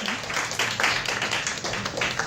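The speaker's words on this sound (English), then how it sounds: "give us a round of applause" Audience giving a round of applause at a comedy and painting show, a short patch of fairly close clapping and crowd noise of moderate loudness.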